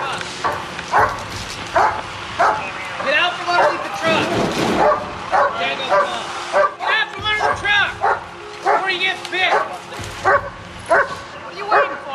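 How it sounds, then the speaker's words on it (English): A police K9 dog barks repeatedly in sharp bursts, with yips and whimpers, close and loud, while people talk nearby throughout. "they got the dog out and they're doing a dog track for the guy from the other car"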